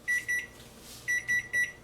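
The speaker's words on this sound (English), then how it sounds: "That was my timer for this" A kitchen timer beeps in a bright electronic tone while Oreo rolls are made: two beeps, a short pause, then three more evenly spaced, clear and alone.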